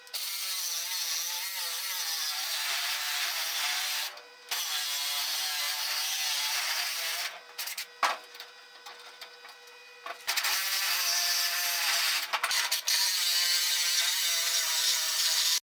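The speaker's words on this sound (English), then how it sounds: "I'm going to have to use a reciprocating saw and just finish it out the rest of the way" Reciprocating saw cutting through a crash-damaged car exhaust pipe, a loud continuous buzzing rasp that runs steadily with a few brief pauses and restarts between strokes.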